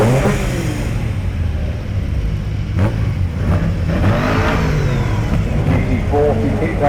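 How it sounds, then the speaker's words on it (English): A DJC kit car at a kit car show drives around a turn past spectators, its engine revving loud and close throughout, with talk running over it. "DJC kit cars just making his way around to the turn"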